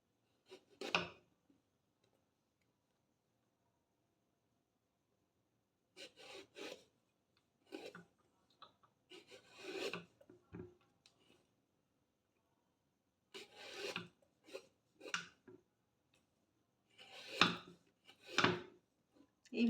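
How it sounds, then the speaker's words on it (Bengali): Eggplant (brinjal) skins being peeled by hand in a kitchen, with soft, quiet scraping and rasping strokes that come in short irregular clusters separated by silent pauses. "এইভাবে সমস্ত খোসাগুলো আমি ছাড়িয়ে নেব।"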